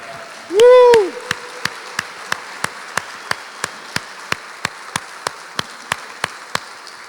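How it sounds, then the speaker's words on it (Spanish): Church congregation claps in unison during a Sunday service, sharp single claps evenly spaced in a steady rhythm, preceded by a brief rising vocal whoop. "Fuerte, fuerte ese aplauso."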